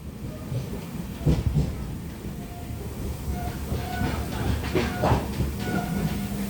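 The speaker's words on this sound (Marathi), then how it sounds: "आता ट्रेन चालू झाली आहे" A steady low rumble of a Konkan Railway train moving from Sawantwadi, with faint hissing and occasional metallic clanks throughout.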